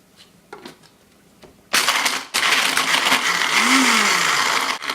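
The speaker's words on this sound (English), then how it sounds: "And then we're going to take our hard vegetables, like our peppers," A blender grinds hard vegetables such as peppers for a homemade V-8 style smoothie, switching on abruptly with a loud, dense whirring roar that briefly dips and then steadies after a few faint taps.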